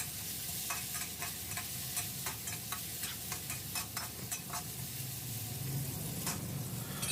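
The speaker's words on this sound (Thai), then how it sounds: "เมื่อน้ำมันของเราร้อนได้ที่แล้วก็นำพริกกระเทียมลงไปได้เลยครับ" Chili and garlic stir-frying in hot oil over high heat for Chinese kale with crispy pork, a steady close sizzle punctuated by regular metallic spatula scrapes against the wok, no talk.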